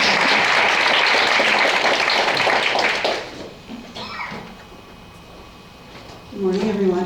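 An audience at a Long Island health symposium breaks into sustained, dense applause that fades after about three seconds, followed by scattered sounds and a speaker beginning to talk.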